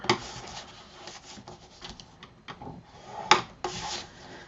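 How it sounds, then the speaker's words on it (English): Paper scored on a scoreboard tool, giving close, dry rubbing and scraping strokes of varying length, with a couple of sharper clicks and brief pauses between passes, and no voice. "So we're going to score this on 3 sides."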